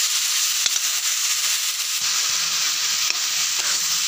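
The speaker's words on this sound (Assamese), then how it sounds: "এইখিনিও পূৰা লগতে ভাজি ল'ম আৰু নিমখ হালধি ইয়াতে এতিয়া দি দিম।" Masala with tomato, salt and turmeric fries in a pan for a fish curry, a loud continuous sizzle with occasional scrapes of stirring, close up and without talk.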